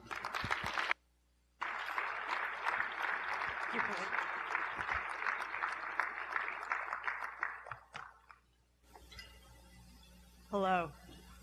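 An audience at an agribusiness forum applauds to welcome a speaker, a dense, sustained round of clapping for several seconds that tapers off, with a short quiet gap near the start and brief speech afterward.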